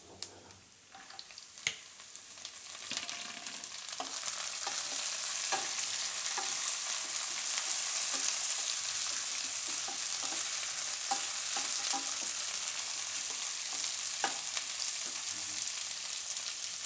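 Shredded cabbage stir-fried in hot oil for cabbage-capsicum pulao, starting with a few sharp clacks of a utensil, then swelling into a steady close sizzle punctuated by repeated stirring scrapes.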